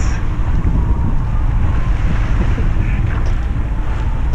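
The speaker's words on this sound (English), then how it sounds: "22 knots of wind on arrival at Akranes" Strong 22-knot wind buffets a solo sailboat arriving at Akranes harbor in Iceland, a loud, close, rumbling roar of gusts and water with no clear speech.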